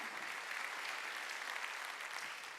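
Steady, even applause fills a church congregation during a Korean Thanksgiving Sunday worship service, a dense continuous wash of many hands clapping at moderate distance with no voices standing out.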